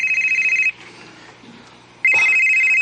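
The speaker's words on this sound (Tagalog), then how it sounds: "Akong cellphone." A cellphone rings in loud, steady electronic trills, stops for just over a second, then starts ringing again, with no talking.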